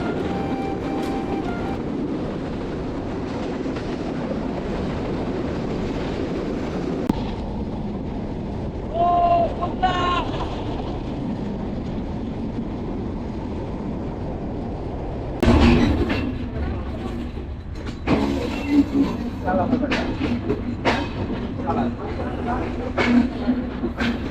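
A running train on the Khulna route rumbles and rattles steadily, with wind buffeting the microphone, a few louder clanks and surges, and a voice talking over parts of it.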